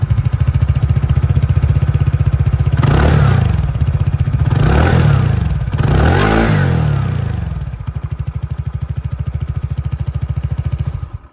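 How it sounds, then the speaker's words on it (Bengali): A 2025 TVS Ntorq 150 scooter idles with a steady low exhaust thrum, then revs three times in quick succession, each blip rising and falling, before settling back to idle. "একবার এর যে এক্সস্ট সাউন্ড সেটাও আমি আপনাদেরকে শুনিয়ে দিই।"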